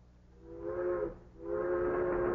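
A train rolls along with two long, tonal whistle-like blasts separated by a brief dip, sounding moderately near over a low rumbling background.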